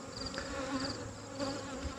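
Honey bees hum from an open hive during an inspection, a soft, steady, close-up buzz with no talking.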